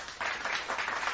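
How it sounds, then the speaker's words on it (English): Brief applause sound effect with dense, steady clapping at a fairly low level, lasting about a second, with no voices. "I'm gonna give myself an applause for that."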